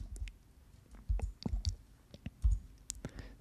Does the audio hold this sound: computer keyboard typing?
yes